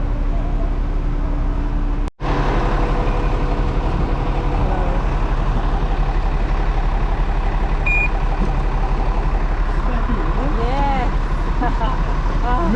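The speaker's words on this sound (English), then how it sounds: "there's another bus here" Deep steady engine rumble of an airport sky bus idling close by, with a brief cut early on, people talking in the background and a few faint beeps over the drone.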